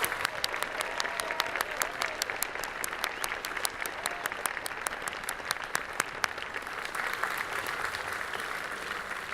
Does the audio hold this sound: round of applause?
yes